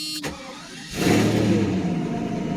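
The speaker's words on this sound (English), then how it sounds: "Let's start the car and reset the sensor." Mercedes S600 coupe engine starting: a brief starter crank, then the engine catches with a loud burst and settles into a steady close idle, with no talk.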